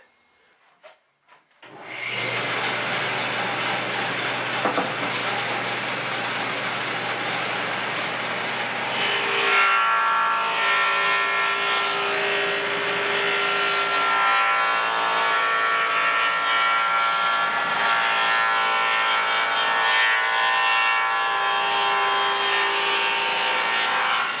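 A power saw rips wood guided along a fence while building a mobile cabinet for a compressor cart, starting with a few clicks, then a loud, continuous whining cut that holds steady and close for about twenty seconds.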